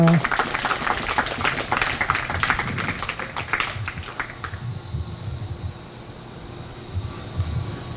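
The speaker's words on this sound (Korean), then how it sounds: "그래서 우리 배장원 아버님 우리 나오셔서 귀한 말씀 주실 때 우리 박수로 환영하겠습니다." Applause from a church audience welcoming a father to the front to speak, a burst of dense clapping for about four seconds that then fades out into quieter room sound.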